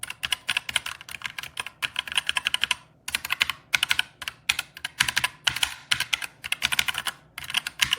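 Rapid bursts of clicky keystrokes on a Redragon K617 compact 60% mechanical gaming keyboard, close and fairly loud, in uneven rhythmic runs with brief pauses, no talking.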